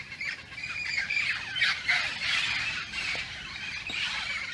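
Roosters squawk and cackle in overlapping bursts at moderate distance, a continuous noisy chorus over outdoor ambience.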